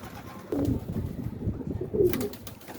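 A pigeon coos nearby, low, soft, throaty calls repeating over faint outdoor background noise.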